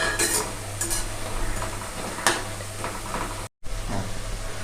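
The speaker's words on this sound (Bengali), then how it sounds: "এইভাবে তেলের মধ্যে উলট পালট করে আমি ভালো করে লাল লাল করে আমি এটাকে ভেজে নেব" Red lentil fritters bubble and sizzle steadily in hot oil over a medium flame, broken by a few scraping clinks as they are turned in the pan.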